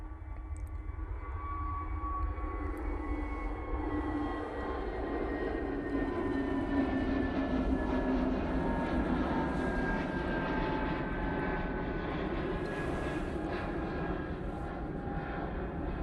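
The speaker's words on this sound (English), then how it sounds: "EasyJet to Geneva now, departing using their A320neo." EasyJet Airbus A320neo departing Manchester Airport bound for Geneva, a steady loud jet roar with a whining engine tone that slowly shifts in pitch, continuous for the whole stretch with no talk.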